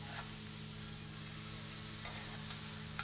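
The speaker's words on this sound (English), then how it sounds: "What I'm looking to do here is basically brown all sides nicely, but not overcook the meat." Beef pieces sear and brown in a hot pan, a steady, even sizzle of frying meat holding at moderate level throughout, with a couple of faint clinks or stirs near the end and no talking.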